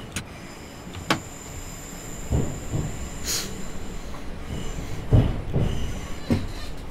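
A train in Train Simulator 2018 runs on the main line toward Luton, giving a steady rumbling roll with a hiss, occasional clunks and a faint high squeal, loud and close, with no voices.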